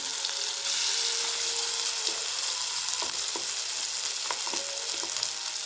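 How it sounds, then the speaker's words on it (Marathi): Prawn thecha, ground fine in a mixer, frying in extra hot oil: a steady, close sizzling hiss with scattered light clicks and scrapes from stirring, no voices. "आता बघा हे एक्स्ट्राचं जे तेल आहे ना त्याच्यामध्ये आपल्याला टाकायचा आहे ठेचा"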